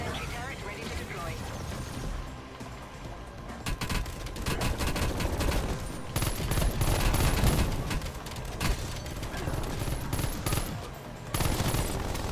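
A sentry turret firing in Call of Duty Cold War Zombies, fast bursts of automatic gunfire mixed with explosions and game effects, loud and near, with players talking over the shooting.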